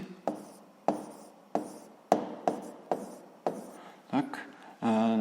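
Handwriting during a school physics exercise, with a pen scratching on paper in short, separate strokes about every half second, close and fairly quiet, ending with a brief louder rustle.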